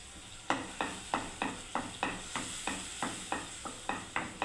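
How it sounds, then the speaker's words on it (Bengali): Ginger paste and green chillies fry in a pan while a spoon stirs, producing a regular series of about a dozen scraping, sizzling strokes at a brisk, even rhythm, close up and moderately loud. "এবারে বন্ধুরা দেখুন আদা পেস্ট দিয়ে দিলাম, কাঁচা লঙ্কা দিয়ে দিলাম"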